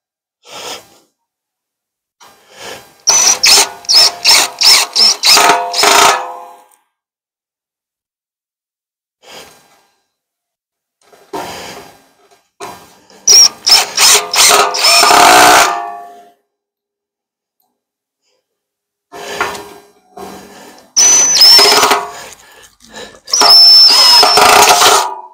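Power drill driving self-tapping screws into a rocket stove, heard as several separate bursts of whirring that stop and start, each run a few seconds long, with short quiet pauses between them.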